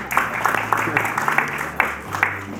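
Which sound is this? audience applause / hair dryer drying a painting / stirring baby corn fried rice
audience applause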